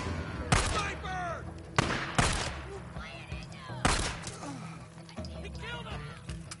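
Sharp, loud sniper rifle shots in the video game Days Gone, four or five spaced cracks with short decays, heard under excited talking voices.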